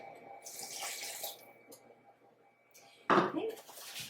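Hot water pours in a soft, steady stream for over a second into a dog-cookie mix, then trickles off; a louder splash or clatter comes near the end.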